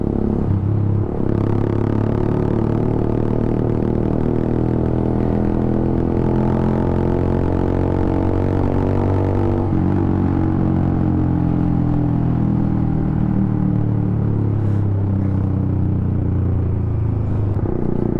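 A Suzuki Gixxer 155 with an aftermarket exhaust and the DB killer removed runs loud and close, its deep raspy rumble rising and falling through repeated revs with no talking.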